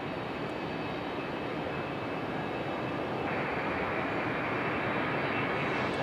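Airliner departing the runway at Raleigh-Durham, its jet engines giving a continuous broad roar that holds steady and swells slightly toward the end, heard from a distance.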